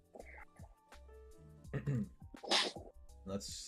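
A single sharp sneeze bursts out amid ongoing conversation, loud and close, followed by more chatter.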